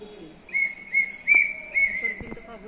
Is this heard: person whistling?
yes